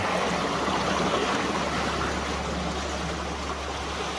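A creek fed by a spring rushes and gurgles in a steady, full wash, close by and continuous, with no voices.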